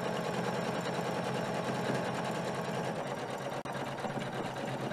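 A Janome 500e embroidery machine stitches steadily in a CNC woodshop, a fast, even mechanical whir and rapid needle chatter running continuously at close range, with one brief dip partway through.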